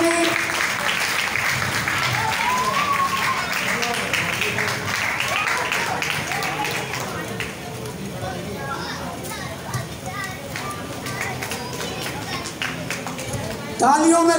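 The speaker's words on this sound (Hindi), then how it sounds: "बहुत सारी तालियां आप लोगों की।" Audience applause at a Diwali celebration gathering, a broad wash of clapping mixed with children's voices and crowd chatter, steady and fairly loud throughout with a brief surge at the end.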